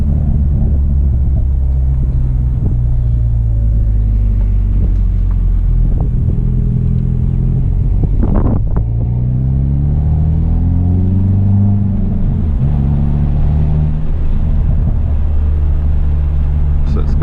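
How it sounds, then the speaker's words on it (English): A Hyundai Veloster N doing a burnout in reverse produces a loud, close engine rumble with rising and falling revs and sweeping pitch changes, plus a brief sharp burst midway and no clear talking. "will a Veloster N do a burnout?"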